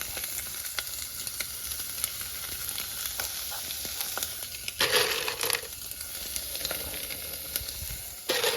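Sauce sizzles in a pan on a stovetop for homemade pasta, a loud, steady frying hiss that lasts the whole time, with a few brief stirring scrapes and no voices.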